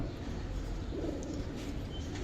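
Pigeons coo softly in low murmuring phrases against a constant background hum, with a faint chirp near the end.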